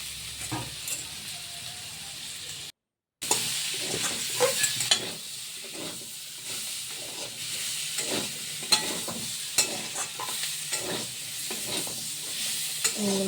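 Spiced potatoes sizzle in a pan while a spatula stirs and scrapes them in a steady, repeating rhythm, close and moderately loud, with a brief silent gap early on.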